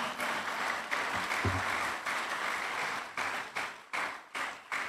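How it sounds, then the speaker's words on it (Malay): An audience at an official programme claps together in a sustained round of applause that stays dense and steady, then thins into a few fading bursts toward the end. "marilah sama-sama kita berikan satu tepukan kepada JPN yang menyokong program kita ini"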